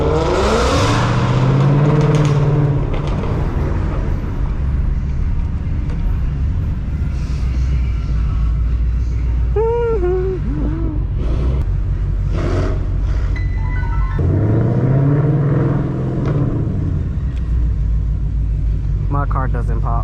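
Three Ford Mustangs in Detroit streets rumble loudly and continuously, with engines swelling into revs at the start and again midway, deep exhaust filling the background throughout.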